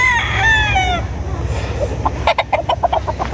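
A rooster crows loudly nearby, then clucks and short chicken calls follow in quick, uneven bursts.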